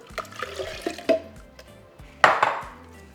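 Water splashes and pours into a blender cup in short bursts, with a louder gush near the end and faint clinks of the vessel.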